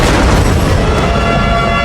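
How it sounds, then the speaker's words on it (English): Dense, continuous battlefield din of booming artillery explosions mixed with gunshots, loud and sustained throughout with no clear gaps between blasts. "Every shot of mine was covered by the sound of artillery"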